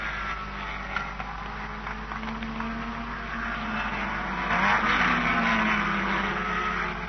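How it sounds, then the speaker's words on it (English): Formula Junior single-seater race cars lapping a circuit in a 1960 race, their engines a steady distant drone that swells slightly toward the end, with no talking. "Last lap, and Taylor's 10 seconds ahead"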